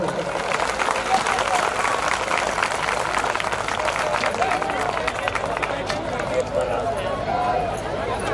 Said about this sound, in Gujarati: એકવાર જેટલા સાંભળો છો એટલા જોરદાર તાળીઓથી વધાવો